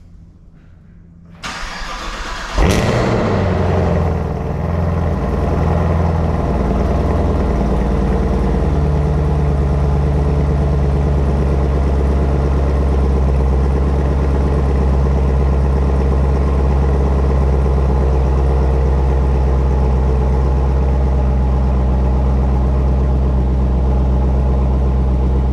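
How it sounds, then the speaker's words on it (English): A Camaro ZL1 1LE, left in storage for six months, cranks briefly and fires up with a loud bark. It then settles into a deep, steady, rumbling idle that carries on alone. "You guys can listen to the car start."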